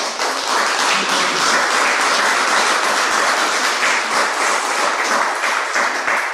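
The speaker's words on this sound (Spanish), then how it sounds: "Denle un fuerte aplauso al Señor." A church congregation at a Spanish-language worship service gives a loud, sustained round of applause, a steady dense wash of many hands clapping together that holds for several seconds without letting up.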